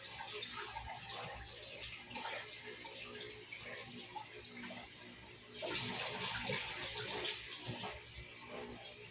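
Tap water runs steadily into a sink while milkfish is washed under it: a continuous, close splashing and hiss that swells and surges toward the end, with nothing else over it.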